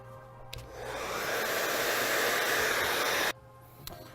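A hair dryer blows on long hair during a salon blow-dry, a loud steady whoosh that ramps up over about a second, holds, then cuts off abruptly, with faint handling clicks before and after.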